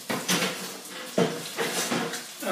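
Cookware clanks and knocks several times in quick succession, with a door-like thud, as a pot holding a salmon fillet set skin side down is moved into an oven for slow roasting.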